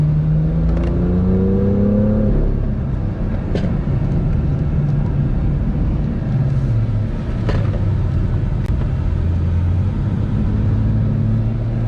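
A supercar engine pulls hard around a small go-kart track, rising and falling revs with shifting tones, loud and continuous from the cockpit.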